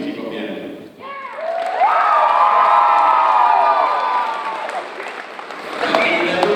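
A high school gym crowd at a Marine Corps Band visit erupts in loud, sustained cheering and whooping with scattered applause, swelling after a brief lull and holding strong before a final burst.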